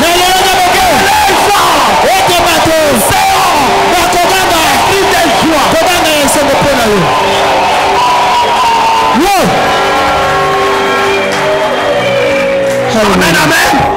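A church congregation at a Sunday service shouting and whooping with joy, a loud massed crowd of overlapping cries and yells that swell and carry on over a constant roar of voices.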